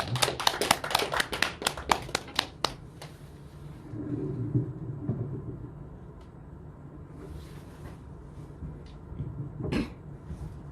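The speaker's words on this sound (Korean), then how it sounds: "박수로 맞이합니다." A church congregation at a Sunday 11 a.m. service in Samcheok breaks into close, dense hand-clapping for about three seconds, then fades into a quiet hall murmur with a brief shuffle near the end.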